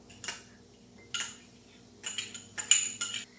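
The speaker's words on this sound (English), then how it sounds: "Now I'm going to add some washed and chopped carrots to this" Washed, chopped carrots are tipped into a bowl of beetroot salad. There are four short bursts of clinking as a utensil knocks against the bowl, separated by near silence.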